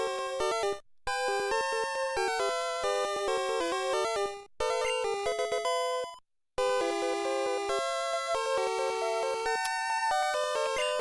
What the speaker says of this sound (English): That's the sound of a metronome.